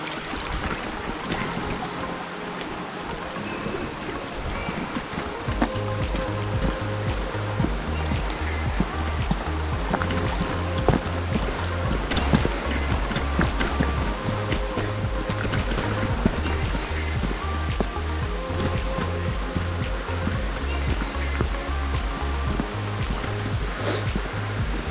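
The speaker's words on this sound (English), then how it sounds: "towards the right you can see the water flowing." Water rushing at Hidlumane Waterfalls on a trek, a loud, continuous roaring wash of flowing water heard steadily throughout, close and dense, with rhythmic low thumping underneath.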